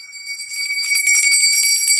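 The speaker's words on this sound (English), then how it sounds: "So it's time to ring the bell." A grandfather's old hand bell rings steadily and close by, its bright metallic tones sustained and shimmering throughout, with no voices over it.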